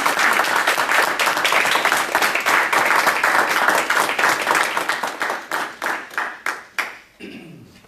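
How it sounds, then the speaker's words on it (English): Audience at a Toastmasters meeting bursts into loud, dense applause that holds steady, then thins into scattered separate claps and fades out near the end. "Let's clap Mark up here."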